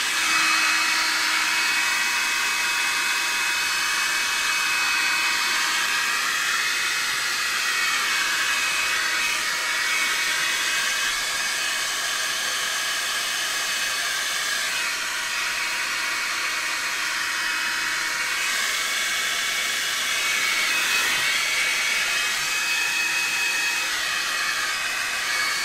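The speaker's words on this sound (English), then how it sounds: "But I will put the hair dryer to it." A hair dryer blows steadily on a cracked, weathered wood finish treated with Owatrol, a loud unbroken whooshing hum that wavers slightly in pitch and runs on its own.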